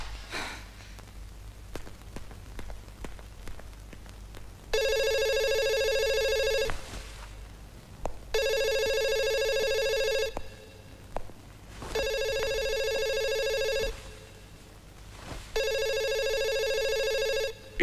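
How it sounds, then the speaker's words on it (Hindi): A telephone rings four times in long, evenly spaced electronic bursts in a film scene, loud and close, over a quiet background with faint rustles between rings. "ईशा, फोन उठाओ"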